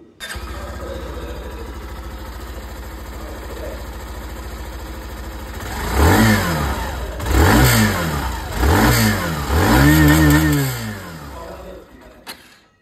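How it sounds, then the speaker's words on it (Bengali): A Hero Glamour 125 motorcycle engine idles steadily, then revs up sharply three times in rising-and-falling bursts before settling, loud and close. "এক্সস্ট সাউন্ড ওটাও আমি সব থেকে আগে এখানে শুনিয়ে দিই"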